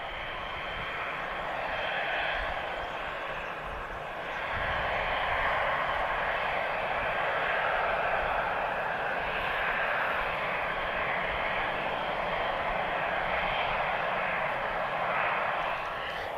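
TAP Express Embraer jet taking off from Lisbon Airport toward Valencia, a steady broad engine roar that swells slightly and holds, heard from a distance without talk.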